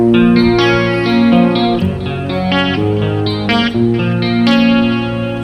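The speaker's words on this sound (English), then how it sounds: "I think, set up with a little bit of distortion" Distorted electric guitar through a Kemper Stage plays a run of chords and held notes, loud and steady with a gritty, saturated tone and some shimmering effect.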